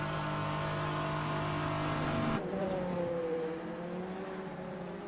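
A prototype LMP2 race car engine in a racing game at Suzuka drones steadily and loud, with a sharp shift in pitch midway as it comes into the pits for a final stop, and no voices over it.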